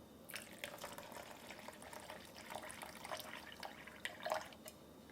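Rye sourdough starter discard being dumped into a sink, with wet plops and drips over a few seconds and one louder splash near the end, quiet and close.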